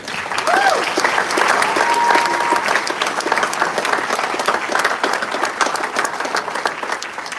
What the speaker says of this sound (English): I'd like to have a round of applause for everyone.